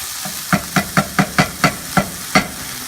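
Garlic and beans fry in a pan with a soft sizzle, punctuated by eight crisp, evenly spaced stirring knocks of a utensil, close by with no talking.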